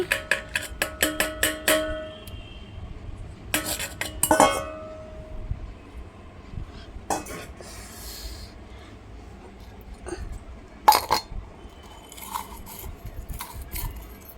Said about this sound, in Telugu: ఇప్పుడు నేను ఎండుమిరపకాయలు వేయించి వేస్తాను రోట్లో